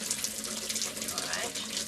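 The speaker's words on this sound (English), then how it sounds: "Can you press down on the cold water tap as firmly as possible?" Cold water gushing from a kitchen tap in a 1980s house, a bright, steady rushing hiss close by that runs without pause.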